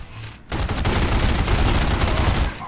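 Dense burst of automatic gunfire from The Godfather video game erupts after a brief quiet start, a loud sustained volley of rapid shots that rattles on for about two seconds before dropping away.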